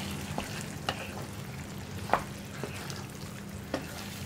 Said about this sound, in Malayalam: ഫ്രഷ് ക്രീം ചേർത്തിട്ട് നന്നായിട്ടൊന്ന് ഇളക്കി മിക്സ് ചെയ്യാം